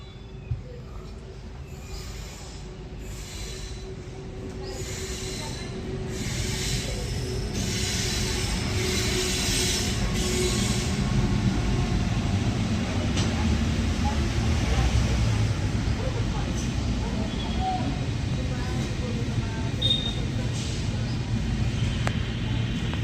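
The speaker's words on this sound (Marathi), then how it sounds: "समोर बघा गाडी जातोय मालगाडी" A freight train passes close by, a long, heavy rumble that builds and holds steady, with faint hiss and scattered clanks over the low roar.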